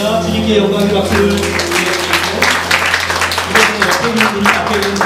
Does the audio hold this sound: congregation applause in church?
yes